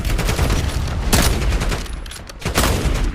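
Dense bursts of automatic gunfire in the video game Warzone, loud and close, with rapid overlapping shots and a brief lull before another volley, no talk.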